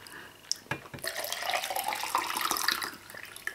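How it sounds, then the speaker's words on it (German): Water poured from a bottle to refill a drinking glass during a cheese-eating challenge, a close gurgling splash starting after a few clicks and flowing unevenly for about two seconds before trailing off. "Ich muss noch mein Wasser nachkippen."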